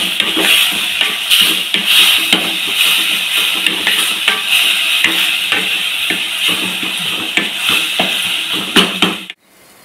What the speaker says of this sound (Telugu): మరి కొంచెం గోంగూర అనేది వేసుకుంటున్నాం. ఇలా కలుపుకోవాలి.